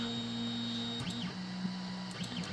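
A Creality 3D printer begins its first print with a quiet, steady electrical hum and faint motor whine, broken by a few soft stepper-motor chirps and sweeping tones from the moving head.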